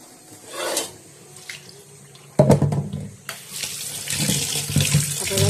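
Tap water runs into a kitchen sink while raw prawns are rinsed by hand. It starts soft and intermittent, then turns into a louder, steady splashing gush with clattering handling sounds, with no talk.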